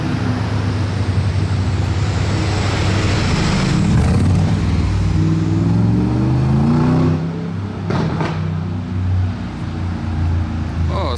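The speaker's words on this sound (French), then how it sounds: "Il a fait un rétrogradage juste devant moi exprès et il a mis un petit coup d'accélérateur et vous avez entendu les retours d'échappement qu'il a fait" A Mercedes G-Class Mansory on a street in Monaco downshifting with a throttle blip, a loud close engine rise and fall followed by sharp exhaust pops over steady traffic noise.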